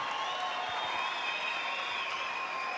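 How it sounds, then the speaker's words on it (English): Crowd applauding both fighters at a Muay Thai event in Glasgow, continuous clapping heard somewhat distant and steady. "please, a massive round of applause for both fighters"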